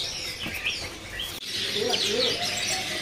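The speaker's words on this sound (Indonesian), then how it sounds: "Di sini ada burung rambatan Doraemon" Rambatan Doraemon birds in a bird-selling kiosk chirp in a dense, bright chatter, many small calls overlapping at moderate volume against faint shop background noise.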